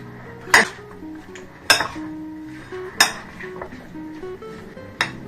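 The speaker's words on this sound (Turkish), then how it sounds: "İkisini böyle bir karıştırıyorum." Clinking of utensil against a bowl while stirring chopped peppers into a pide mixture, four sharp knocks spaced about a second apart over a low steady background.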